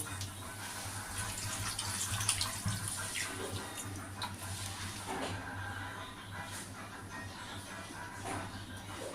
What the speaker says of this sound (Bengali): আন্দাজ মতো জল দিয়ে দিলাম